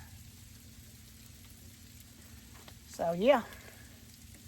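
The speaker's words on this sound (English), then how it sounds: "I think it might be sleet because you can hear it." Sleet pelts down steadily during a winter storm in North Carolina, a faint, even hiss like light frying that carries throughout, with a person speaking briefly near the end.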